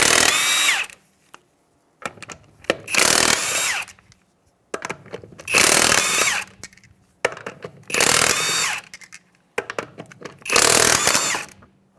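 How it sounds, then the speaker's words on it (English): Power impact tool on a Mazda CX-9 rear wheel, zipping off 21 mm lug nuts in five loud, close bursts of roughly a second each, separated by short pauses. "We'll go ahead and take off our lug nuts now."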